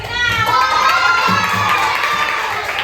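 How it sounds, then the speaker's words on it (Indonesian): Fourth-grade children cheering and shouting excitedly in a classroom during a strength contest, a lively burst of young voices with some clapping, loud and close throughout. "tepuk tangan siapa mendukung Arjuna"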